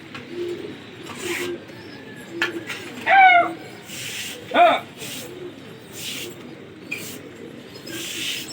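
Pigeons in a rooftop pigeon-fighting session coo in a few short, bright calls over a bustling outdoor background with voices talking nearby and occasional bursts of noise.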